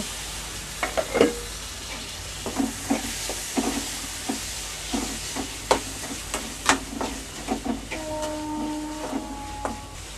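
Tomatoes with ginger garlic paste sauté in a pan for prawn gravy, a steady sizzle broken by repeated sharp scraping stirs, close and moderately loud.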